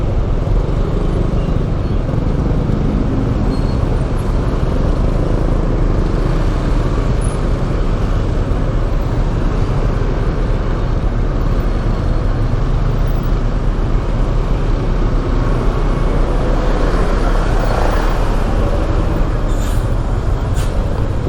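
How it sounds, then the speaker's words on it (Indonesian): A Yamaha NMAX motor scooter threads between cars in heavy traffic on the Pantura coastal road in Indonesia, with loud, unbroken road and engine roar and wind rumble filling the whole stretch. "Wow, kita nyelip-nyelip di antara mobil-mobil."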